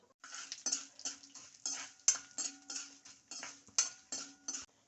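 Fenugreek seeds and urad dal, with a little mustard and cumin, dry-roasting in a pan as a spoon stirs them: a steady run of close, rhythmic scraping and clinking strokes, about a dozen of them, with no talk.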